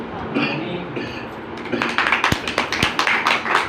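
Loud, fast audience applause at a Christian worship gathering, many hands clapping in a dense, uneven patter that starts after a moment of murmuring and builds to a sustained burst.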